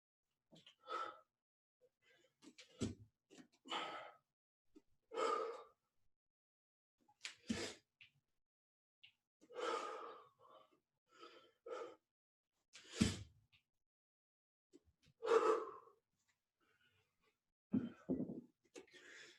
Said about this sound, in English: if you heard my breathing was kind of a sport style kind of breathing with a hard style kind of action